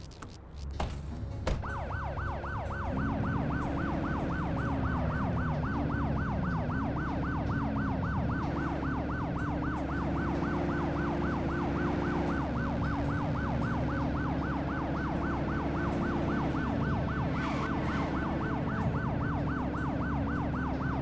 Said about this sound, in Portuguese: Atender uma emergência, ative seu giroflex sirene.